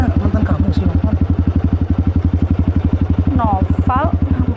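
A Honda BeAT scooter motorcycle runs nearby with a steady, rapid low putter that stays constant, while short voice-like chirps break in near the end.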